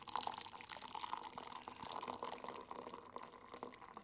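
An herbal detox drink is poured, a close, quiet stream of liquid splashing and trickling steadily for a few seconds before easing off slightly near the end.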